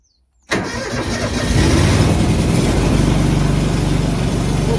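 A ride-on mower engine catches after a moment of silence, cranking abruptly to life and settling into a loud, steady, close running drone with a low throbbing pulse.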